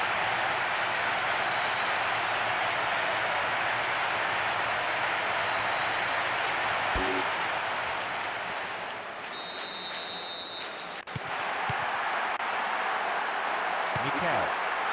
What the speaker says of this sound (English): the goal richly applauded by all corners of the stadium